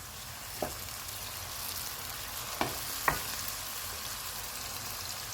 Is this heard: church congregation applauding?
no